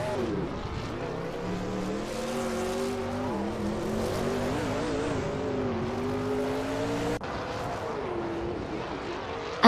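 Racing trucks such as Toyota Tundras, Dodge Rams and a Chevrolet Silverado lapping the vintage Nürburgring layout in a racing game, a continuous droning engine whine that rises and falls in pitch and holds steady in loudness throughout.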